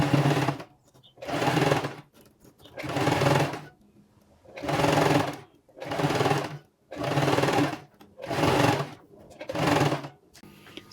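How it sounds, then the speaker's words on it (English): A sewing machine stitches crinoline on a child's ball gown in loud, close bursts of about a second each, repeated eight times with short pauses between, with no talk. "Remember, do not pull your crinoline when you're sewing."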